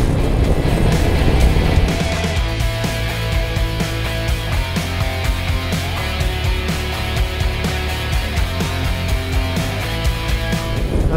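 Harley-Davidson Road Glide ST motorcycle accelerating hard at speed, a loud continuous engine drone rising and shifting through gears, mixed with heavy wind rush throughout.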